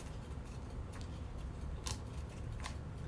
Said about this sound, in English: we can take our sharp blade, and then I'm going to cut gently around the very edge